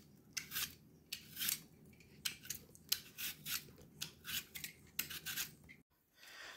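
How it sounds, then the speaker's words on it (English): An apple being peeled with a regular vegetable peeler, heard as a close run of quick, rhythmic rasping strokes, about a dozen scrapes with short pauses between them, alone without talk. "we're going to peel it with just like a regular peel and get all that skin off it"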